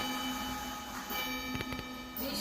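A small brass prayer bell is handled during cleaning at home, giving a few soft metallic taps and faint rings around the middle of the clip over a steady low hum, with no talking.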